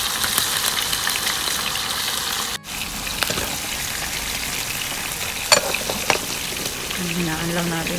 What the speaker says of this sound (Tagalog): habang nagsasayang at nagpiprito tayo